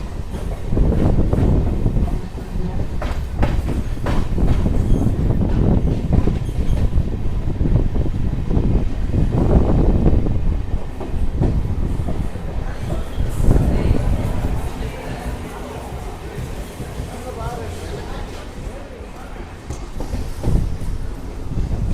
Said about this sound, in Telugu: మన ట్రైన్ వచ్చేసి వెంకటగిరికి అయితే వచ్చేసింది.